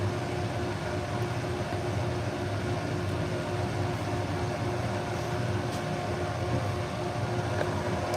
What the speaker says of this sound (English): Noise you hear in the background is the dust collection system